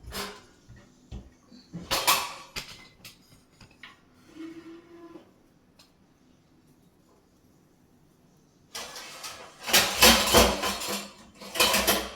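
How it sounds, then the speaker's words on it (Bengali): Metal pot lids clatter and clank loudly as a lid is pulled out from a pile of cookware in a home kitchen, with bursts of banging near the start and a louder run of rattling at the end. "আমি একটু বের করি ঢাকনাটা"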